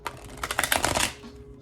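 Tarot cards being shuffled by hand, heard as a brief close burst of rapid riffling clicks that swells and then fades, with no talking.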